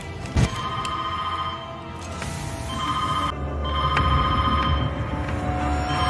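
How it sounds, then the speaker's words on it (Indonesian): A telephone rings in short electronic trills against a low background rumble, with a sharp thump near the start and no speech. "dering telepon berbunyi"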